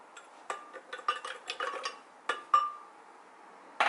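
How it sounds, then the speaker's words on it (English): Six frozen strawberries clattering one after another into a hard container, a series of sharp separate clinks and knocks, close and clear with no talking. "So I'm starting off with 6 frozen strawberries."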